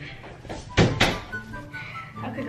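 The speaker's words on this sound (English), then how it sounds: "Close the door, close the door." A door thuds shut indoors, two quick solid knocks of the slab meeting its frame close together, with quiet voices and room noise around it.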